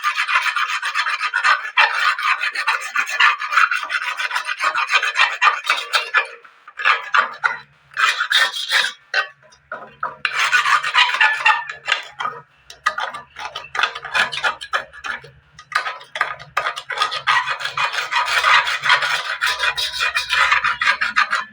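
Sandpaper scrubbing burnt black stains off a kadai wok, a close, loud, steady rasping rub in rhythmic strokes, pausing briefly twice before resuming.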